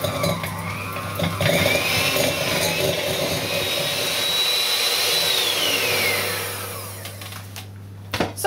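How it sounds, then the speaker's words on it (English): A loud hand blender motor whirs steadily as it whips butter, its pitch rising and sliding around, then winding down toward the end. "mix with the hand blender for approximately 5 minutes until fluffy"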